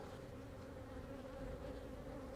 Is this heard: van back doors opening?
no